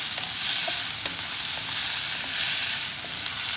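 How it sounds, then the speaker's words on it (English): Garlic, onions and mushrooms sauté in a pan with a dense, steady sizzle and the odd small pop, loud and close throughout with no talking. "Just saute for a few minutes till the garlic and the onions and mushrooms"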